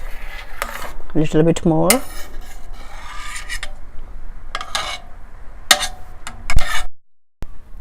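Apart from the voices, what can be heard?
spoon skimming froth off boiling lentil soup in a pot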